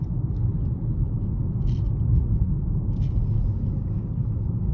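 A car driving over Hecker Pass, heard from inside as a steady, loud low road rumble and engine drone that holds even throughout, with a couple of faint high ticks above it.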